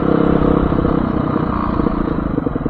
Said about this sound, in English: Husky Varney FE 350S riding experience here